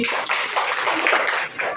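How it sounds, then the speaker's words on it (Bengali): A classroom of fifth-grade children clapping together for a classmate, a dense, continuous patter of hands close by and fairly loud, with some voices mixed in. "ওর জন্য একটা হাততালি"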